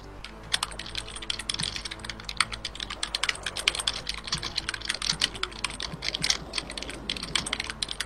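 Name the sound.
typing on a computer keyboard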